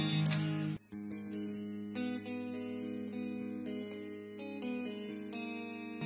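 A Chapman ML1 Modern baritone electric guitar with its humbuckers split to single coils plays a clean bluesy lead phrase of sustained, ringing notes with light effects and reverb, close and alone without any talking.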